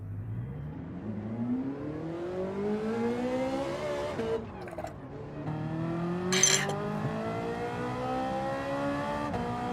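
A Ferrari engine revs hard in the video game Gran Turismo 7, rising in pitch through several gear changes, dropping briefly, then climbing again with a short tire squeal, loud and alone without talk.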